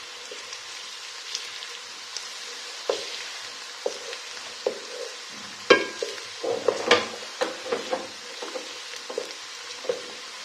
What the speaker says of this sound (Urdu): پیاز کو ہم ہلکا سا فرائی کریں گے جب تک یہ لائٹ براؤن ہو جائے۔